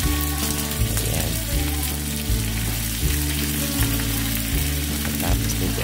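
Chicken franks hotdogs frying in a pan, a loud continuous sizzle and crackle of hot oil close up, with a low rhythmic hum underneath throughout.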